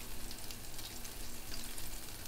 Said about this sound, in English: now we saute the garlic a little bit